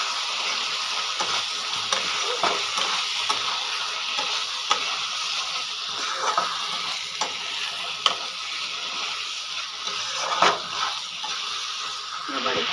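Katla fish curry frying in a pan and being stirred after a little sugar goes in, a continuous sizzle broken by clinking and scraping strokes of the spoon.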